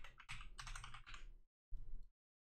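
Quiet, close typing on a computer keyboard: a quick run of keystrokes for about a second and a half, a short pause, then a brief second burst.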